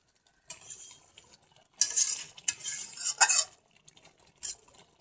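A spoon scrapes and stirs a thick, reduced duck egg curry gravy with softened potatoes in a pan, giving several close bursts of scraping and clinking with short pauses between strokes.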